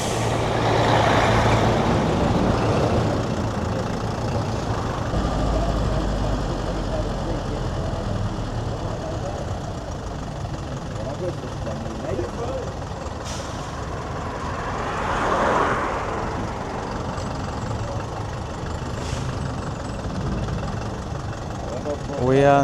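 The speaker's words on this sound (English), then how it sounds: "We are now stuck in a jam of trailers." Heavy trailer trucks sit idling in a traffic jam on a Ugandan highway, a steady low diesel rumble with occasional hiss of air brakes and engine swells, while a voice speaks over it.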